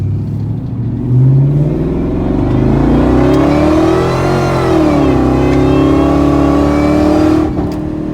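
A Ford Lightning pickup truck accelerating hard while driving, the engine note rising steadily in pitch, dipping at a gear change, then climbing again, loud and close from inside the cab.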